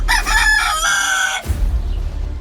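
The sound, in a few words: rooster crowing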